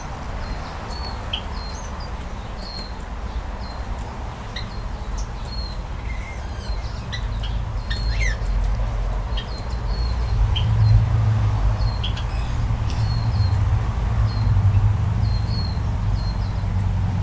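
Java sparrows chirp in an aviary, with many small, sharp calls scattered steadily throughout under a constant background hum.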